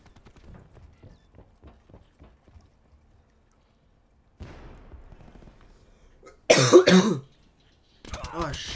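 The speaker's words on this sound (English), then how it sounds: "I took a break to cough because I'm sick" Harsh, bursting coughs from a sick player during a first Black Ops 4 match, loud and close, two bouts near the end after a quiet stretch with faint low murmuring.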